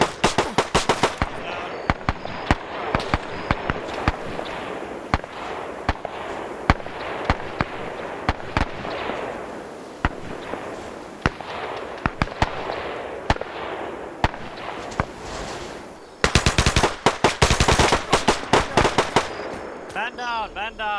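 Rapid gunfire crackles through a WW2 paratrooper video game battle, dense bursts and single shots popping continuously, then a louder, tightly packed volley near the end, with a voice talking faintly beneath.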